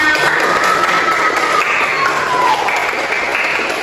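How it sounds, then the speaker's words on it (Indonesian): Students in a classroom during a science lesson clap together in a steady, fairly loud burst that lasts several seconds, with a faint voice briefly audible underneath. "Kasih tepuk tangan untuk kita semuanya."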